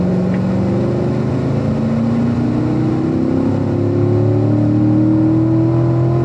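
A race car engine pulls hard at full throttle down a track straightaway, a loud steady drone whose pitch climbs smoothly over a few seconds, heard from inside the car with no talking.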